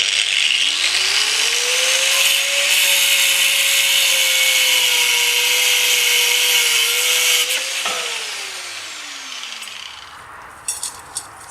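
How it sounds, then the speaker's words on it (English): Steel rebar being cut with a power tool, which spins up into a loud, steady whining cut for several seconds and then winds down and fades, followed by a few light clinks. "So I've got my rebar. You can see how I cut that in this little clip."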